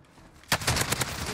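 A PKM machine gun firing in Warzone: a sudden loud burst of rapid, evenly spaced shots after a quiet half second, continuing as sustained automatic fire.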